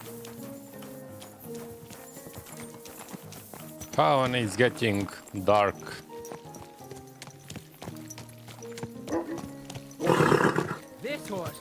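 Horse hooves clip-clop steadily in Kingdom Come: Deliverance II as a rider travels into town at dusk, mixed with game music, a brief horse whinny-like burst and someone talking over it.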